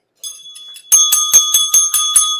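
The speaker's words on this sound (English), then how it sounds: "Here's a bell. There you go. You got a bell." Small bell rung repeatedly, a few light dings followed by a louder run of about seven bright metallic rings at a quick, regular pace, close and clear with no talking.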